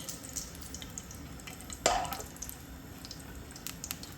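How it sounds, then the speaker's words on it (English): Ingredients frying lightly in a pan for lentil dal produce a quiet, steady sizzle, with one small clink or stir partway through and faint crackles elsewhere, no one speaking. "Just going to slightly fry them."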